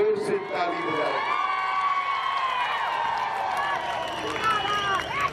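A large crowd at a political rally in Darjeeling cheers and shouts steadily, with whoops and a loud, continuous roar carrying through the whole stretch.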